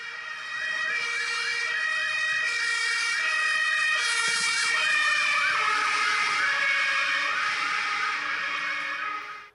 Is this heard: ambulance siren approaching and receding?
yes